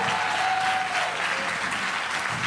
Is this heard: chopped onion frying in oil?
no